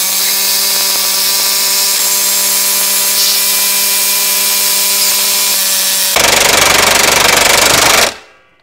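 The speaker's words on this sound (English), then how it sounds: "Now let's see what the Milwaukee 1-inch square drive D-handle impact wrench can do." A Milwaukee 1-inch square drive D-handle impact wrench on speed 4, powered by a 12 amp hour battery, gives a steady, loud motor whine for about six seconds, then a harsher, louder hammering burst before it cuts off abruptly.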